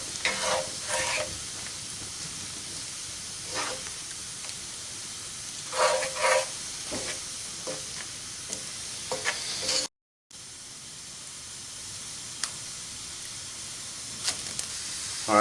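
Ground bison meat seasoned with salt is stirred in a hot pan, a steady sizzle and hiss running throughout with scraping spoon strokes and a brief dropout midway; no one speaks.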